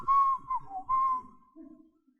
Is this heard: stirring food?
no